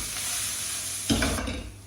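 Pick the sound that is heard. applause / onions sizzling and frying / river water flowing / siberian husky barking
onions sizzling and frying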